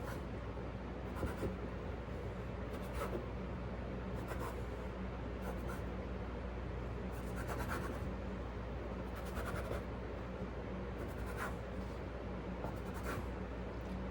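A knife slices rolled dumpling dough into squares for berry dumplings, giving repeated short scraping cuts against a board at an even pace, close and fairly soft, with no talking.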